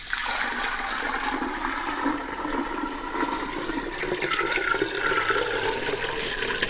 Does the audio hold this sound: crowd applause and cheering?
no